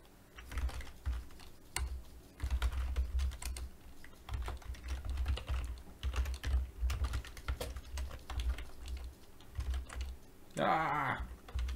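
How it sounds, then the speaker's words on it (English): Typing on a computer keyboard during a Lisp programming session, irregular bursts of key clicks over a low background hum, with a brief vocal sound near the end. "Ah, typing like an idiot."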